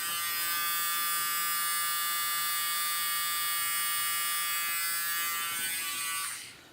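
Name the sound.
electric nose hair trimmer running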